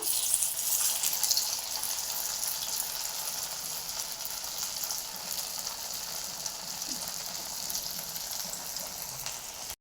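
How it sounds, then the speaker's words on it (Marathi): Sabudana vada deep-fry in hot oil in a kadhai, giving a continuous, even, bubbling hiss that stays close and steady throughout with no talking. "आता हे एक एक दोन दोन हळूच सोडून देऊयात आणि तळून घेऊयात छान"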